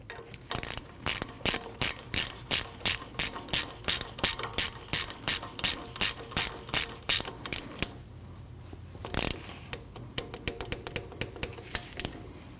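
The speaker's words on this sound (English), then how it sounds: "You want to torque that bolt down to 13 foot-pounds." A ratchet wrench torques a brake caliper bolt on a 2012-2021 Nissan NV2500, giving a fast, even run of loud, close clicking strokes, then a pause and a few scattered quieter clicks.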